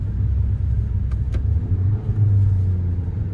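A car's engine brakes in winter driving as the gearbox drops from third to first, giving a steady, loud low rumble that rises slightly in pitch toward the end, with no voices.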